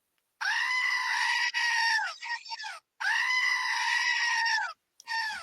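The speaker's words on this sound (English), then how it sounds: "can I have a double goat scream?" Two long, loud screaming goat bleats in a row, each a harsh sustained cry, followed by shorter broken fragments, close and isolated with silence between.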